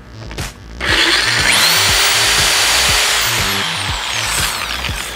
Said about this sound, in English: I'm gonna line up my drill with this piece, go straight down, attempt to center it,